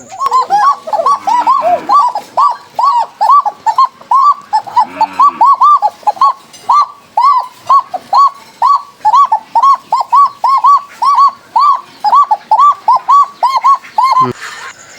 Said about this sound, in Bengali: বাসিরাজ কোকা কবুতর দেখুন ডাক তুলতেছে কিভাবে